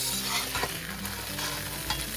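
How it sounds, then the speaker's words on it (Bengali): Brinjal fries in hot oil with a steady, close, hissing sizzle, broken by a few soft stirring touches, over a faint low background hum. "এখন আমি বেগুনটা ভেজে নিচ্ছি"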